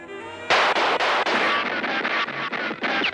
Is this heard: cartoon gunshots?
yes